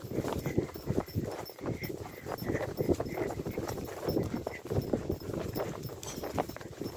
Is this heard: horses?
yes